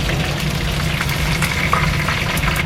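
Fish fries in hot oil in a pan, giving a steady, dense sizzle and crackle that stays close and even throughout with no talking.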